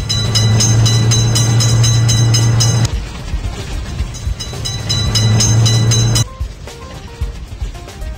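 A cartoon train in a children's game passes loudly with a sustained horn-like tone and rolling clatter, the tone sounding twice before the noise drops away.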